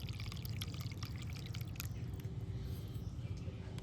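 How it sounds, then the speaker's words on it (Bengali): Water poured from a container into grated ginger in a bowl, a faint, soft trickle and dripping splashes over a quiet background hiss. "আমি একটা পাত্রের মধ্যে জল নিয়েছি, এই জলটাকে গ্রেট করা আদার মধ্যে দিয়ে দেব।"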